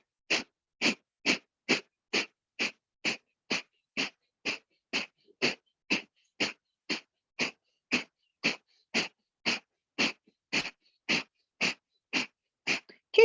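Kapalabhati breathing, a rapid run of some twenty-five sharp, forceful nasal exhales in an even rhythm, each a short close puff of air separated by brief silence, with no talking.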